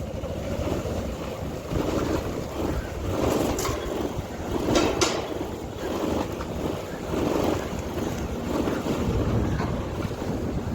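A large ro-ro ferry on the Surat to Bhavnagar crossing, with a steady low rumble, rushing water and buffeting wind noise on the microphone throughout, and no voices.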